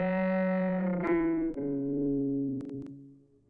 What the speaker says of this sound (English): We can hear how it like flutters around and creates these weird pops and glitches and stuff.